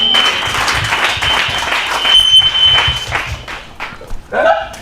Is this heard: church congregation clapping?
yes